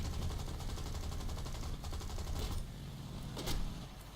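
Rapid bursts of automatic aircraft machine-gun fire in War Thunder rattle continuously over a dense mechanical roar, with a couple of louder sharp blasts near the end.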